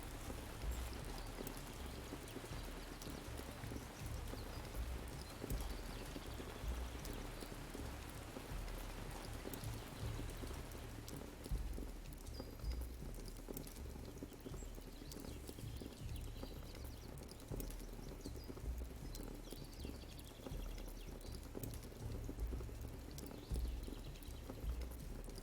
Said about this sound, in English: The rain fell down on them once again.